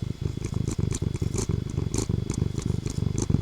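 A cat purrs steadily and close up, a continuous rhythmic rumble with soft repeated pulses and light higher crackles over it, with no talking.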